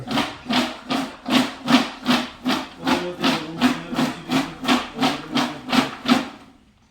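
Paper lottery slips for a weekly lucky-draw festival are shaken in a container with a steady, rhythmic rustle. Roughly fourteen even swishes are heard up close before the sound trails off.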